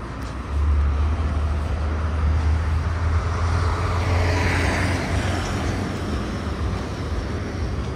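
A car on a road near Adler, Sochi, with a loud, steady low engine drone and road rumble that holds for several seconds and then eases off.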